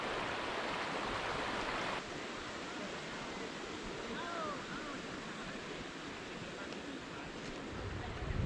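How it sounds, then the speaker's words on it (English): Steady rushing water of Snyder Creek where it enters Lake McDonald, Glacier National Park, a continuous broad wash of flowing stream with no breaks, heard close by. "This is the Snyder Creek right where it enters into Lake McDonald"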